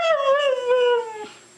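A Siberian Husky gives a single drawn-out howl that slides gently downward in pitch, close and clear, ending with a short breathy break, as if mimicking speech.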